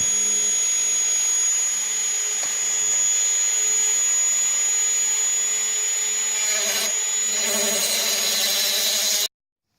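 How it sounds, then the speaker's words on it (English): Dremel rotary tool cutting through a heavy woven steel pull cable, a loud continuous high-pitched whine with grinding that intensifies near the end before stopping abruptly. "So you're gonna need a Dremel to cut it off."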